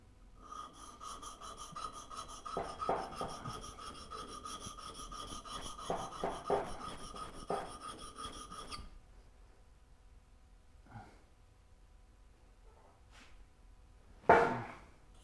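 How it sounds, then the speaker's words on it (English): Hand sharpening of woodworking blades: a steady rasping, rubbing stroke repeats for about nine seconds, close and moderately loud, then gives way to near quiet with a few faint knocks and one sharp bang near the end. "So I thought I'd actually be a good boy and sharpen before I start using them today."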